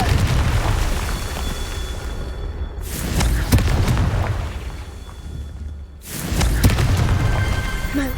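Blasting-spell explosions in a Hogwarts Legacy fight go off as two loud, close booms, each followed by a long rumbling roar, with no talking.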